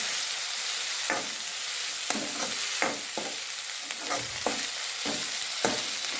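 Onion, tomato, curry leaves and a ginger-garlic-coriander paste sizzle steadily in a pan, with a spoon scraping and stirring in repeated strokes roughly every second, close and clear with no talking.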